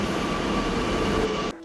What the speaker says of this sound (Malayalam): അങ്ങനെ മെട്രോ വന്നു.